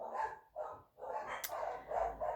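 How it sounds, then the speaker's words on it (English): Dogs sounding in the background, with mid-pitched, drawn-out vocal bursts that come in repeated waves and include a brief sharp yip. They are moderately loud and no one speaks over them. "My dogs, as you can hear, are howling in the background"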